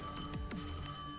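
A telephone bell rings once in a short, slightly muffled burst, moderately close, with no voices over it.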